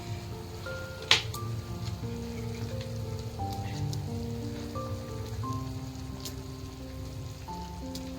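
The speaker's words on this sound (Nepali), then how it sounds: "माछाको झोल उम्लिसकेको छ अब चाहिँ म माछा हाल्छु" Fish curry broth boiling in a pot as fish is added, a continuous soft bubbling hiss with one sharp knock near the start and a faint tonal layer underneath.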